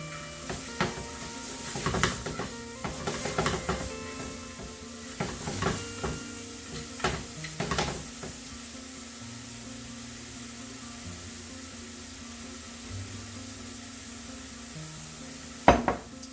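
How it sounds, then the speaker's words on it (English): A Cajun-seasoned egg simmers in a pan with a soft, low sizzle, while a utensil scrapes and clinks against the pan in irregular strokes during the first half. A sharp knock comes near the end. "So I let this simmer for a little bit"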